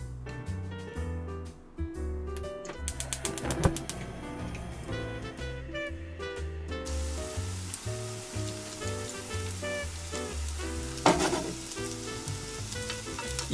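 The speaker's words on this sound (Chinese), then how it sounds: "用煎的方式加热就好啦。" Small tofu chicken nuggets pan-fry in a little oil, giving a steady bright sizzle with a few louder pops and crackles along the way, heard close up and alone.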